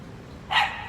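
A single sharp bark from a high-energy dog, close and loud against a quiet room.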